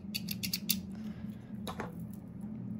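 Scissors snip crochet yarn on a sequin blouse in a few quick, crisp cuts, faint and close, with a soft low hum underneath and no talking.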